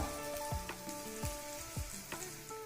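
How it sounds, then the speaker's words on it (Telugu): Green chillies fry in a pan for a hotel-style tiffin chutney, giving a steady close sizzle with crackles and sharp pops every half second or so. "వీటిని దోరగా వేగనిద్దాం పచ్చిమిర్చి వేగిని"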